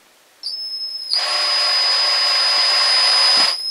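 Fishing line is wound onto the spool of a new reel, producing a steady, close whirring whine that starts abruptly, builds after a second and holds evenly before cutting off.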